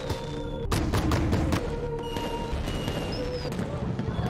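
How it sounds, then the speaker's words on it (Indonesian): Fireworks go off in an action film scene, with several sharp broadband bursts in quick succession early on, then a busy, crackling mix of lower booms and whistling tones that continues under a steady, dense background. "Kembang api pertama dan kedua diledakkan."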